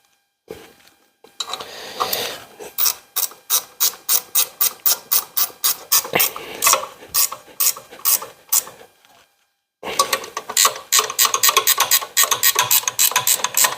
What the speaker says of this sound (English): I like the ratchet wrenches when we get them in there to use them as much as possible.